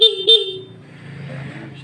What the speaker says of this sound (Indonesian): perhatikan bunyi klakson yang tadi sama yang sekarang